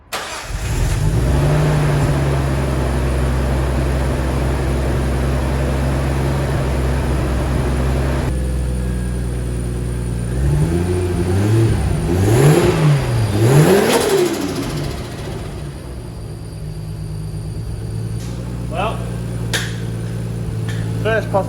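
A Nissan Skyline R33 turbo engine cranks and starts, idles roughly, then is revved several times in rising and falling surges close by, with a person speaking over the running engine.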